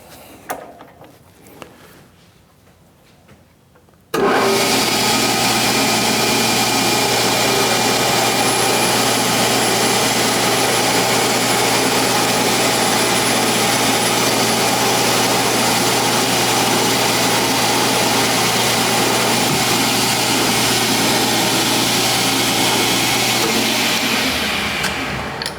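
Metal lathe turning spacers for a toolpost grinder at 3 thou per rev. After a quiet start it switches on to a loud, steady, continuous machining hum with a low drone that runs to the end.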